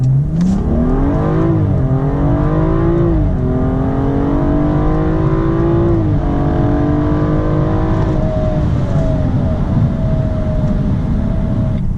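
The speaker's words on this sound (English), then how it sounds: "All right, we'll do a short little pull here, starting first gear." A BMW daily driver with a JB4 tune running E85 accelerates hard from first gear, its engine note climbing loud and close, with brief dips at a couple of gear changes before pulling steadily upward again.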